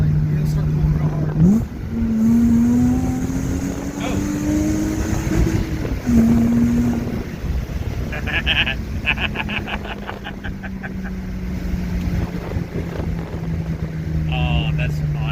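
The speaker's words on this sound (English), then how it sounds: "it's a happy running little engine" A custom H6 Subaru Impreza drift car engine revs up and pulls hard, its pitch climbing then dropping between shifts, loud and close, with people talking over it.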